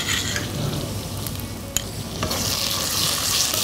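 Onions, green chillies and ginger garlic paste sautéing in a pan for mutton methi gosht, a loud, steady sizzle with a few scraping stirs and a brief clink, no voices.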